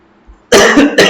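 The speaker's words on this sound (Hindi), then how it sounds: "चावल खा खा के खांसी आ गई है।" A man coughs after eating rice, three close, loud, harsh coughs in quick succession, heard up close and alone.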